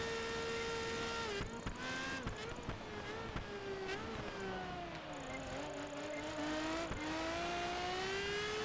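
Racing car engines roar in Project Gotham Racing 4, one loud close engine holding a steady pitch that dips and climbs with gear changes and throttle, with other cars and brief bumps mixed in.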